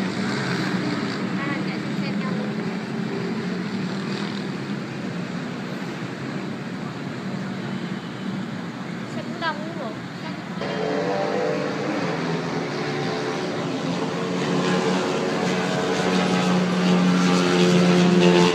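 Motorcycles race through Saigon streets at night, a continuous droning engine roar with traffic noise that swells louder toward the end, while people talk over it.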